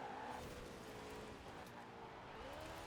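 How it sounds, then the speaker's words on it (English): In Forza Horizon 4, a car skids around a corner with a sustained tire squeal over the engine drone, steady and fairly quiet throughout. "Skid it around there, tap the barrier, flip it almost"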